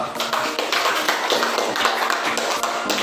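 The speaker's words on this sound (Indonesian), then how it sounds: "Tepuk tangan dulu buat itu." A class of schoolchildren claps hands together in a dense, steady burst of applause lasting a few seconds, fairly close and without talk over it.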